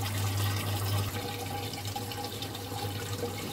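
Water pours steadily down the water curtain of an enameling spray booth, a constant rushing wash of flowing water with a low pump hum beneath, close and unbroken throughout.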